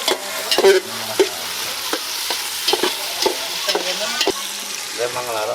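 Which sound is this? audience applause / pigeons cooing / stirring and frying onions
stirring and frying onions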